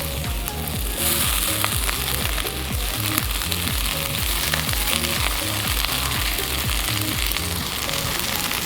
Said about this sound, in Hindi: और अब मैं इसमें डालूँगी नूडल्स, जो कि थोड़ी थोड़ी करके डालनी है